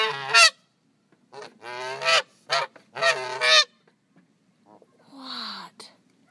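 A Canada goose honks near a car, giving a series of loud, close, harsh honks in uneven bursts separated by silences, then a softer, lower call at the end.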